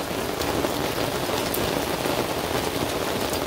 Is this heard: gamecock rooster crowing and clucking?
no